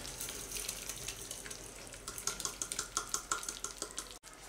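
Dry fruits, poppy seeds and desiccated coconut being stirred together for homemade mawa laddoo, a steady scraping and clinking of a spoon against a pan, quiet at first and then more rhythmic taps toward the end.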